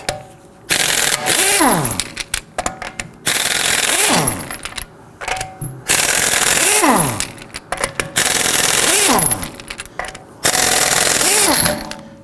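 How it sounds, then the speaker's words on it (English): Impact wrench on a 2018–2024 Toyota Camry's lug nuts with a 21mm socket, loud close rattling bursts in about five roughly two-second runs, each ending with a falling whine as the nut spins free, separated by short pauses. "Let's go ahead and loosen our lug nuts here. We're going to use our 21mm socket."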